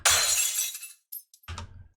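A glass-breaking sound effect in a music track: a loud, bright shattering crash, a short pause, small tinkling pieces, and a second lower smash.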